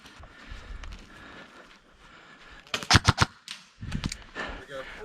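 Video game gunfire during a multiplayer gunfight: a quick cluster of sharp shots, then another short burst, heard over a busy game soundtrack, with players talking in between.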